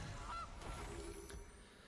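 A single short goose honk from the Goose card in MTG Arena, a brief faint squawk over a low background hum, with no talk.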